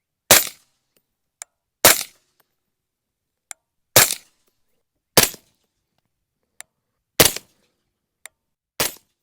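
An Aero Precision M5 AR10 fires outdoors through a Dead Air Sandman S suppressor, giving six loud, sharp, clipped reports about a second apart in an uneven rhythm, with faint short ticks between some of them.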